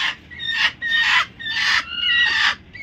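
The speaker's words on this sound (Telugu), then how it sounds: "దీనిలో 2 కోళ్ళు పొదిగేస్తున్నాయి" Country chickens on a farm where hens are brooding eggs give four loud, close clucking calls in a steady rhythm, each a bright burst separated by short pauses.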